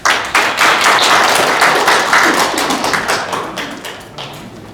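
An audience applauds after a security lecture at a peace school event in Geochang, South Korea, a dense burst of many hands clapping that starts abruptly, holds steady and slowly thins out.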